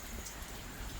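Heavy pre-monsoon rain pours steadily in the Pothwar region of Pakistan, a dense, even hiss of drops on surfaces with no pauses, close and continuous through a brief moment.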